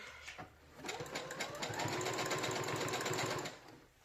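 A sewing machine stitches elastic into the seam allowance of a cloth diaper, a rapid, even mechanical chatter running close and steady for about three seconds before slowing and stopping.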